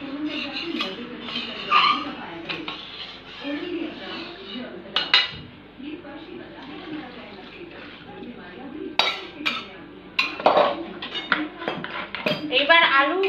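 A spice-coated kadai being washed in a kitchen, with irregular clanks, scrapes and metallic clinks of the wok and utensils against the sink, some louder bursts, while someone speaks intermittently.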